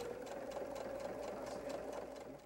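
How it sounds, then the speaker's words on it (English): A sewing machine runs steadily, stitching through quilted fabric for a train case and sewing on top of earlier stitching, a close, continuous mechanical whir with no talking. "we're actually flipping to the wrong side of the exterior and sewing right on top of the previous stitching"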